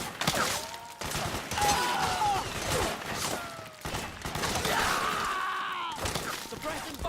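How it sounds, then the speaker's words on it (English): Rapid volleys of suppressing gunfire in the stealth action game Metal Gear Solid 4, loud and dense, with shouting voices and sharp impacts layered over continuous battle noise. "Suppressing fire."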